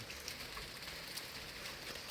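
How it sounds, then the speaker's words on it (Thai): Heavy rain pours down on a construction camp during a storm, a dense, steady hiss of drops hitting surfaces, continuous and fairly loud with no voices. "บัดนี้ฝนตกแห้ง"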